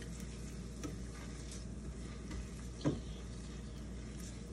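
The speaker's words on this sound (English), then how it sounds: "You can hear the sizzle." Onions sizzle steadily in a frying pan, a soft continuous crackle and hiss with a few small pops and a brief stir, no talking.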